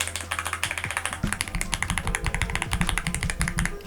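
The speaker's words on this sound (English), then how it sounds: "It's a very nice sounding keyboard." Rapid, steady typing on an Owler F75 mechanical keyboard, a dense run of crisp keystroke clacks up close with a deeper thocky undertone, no voices over it.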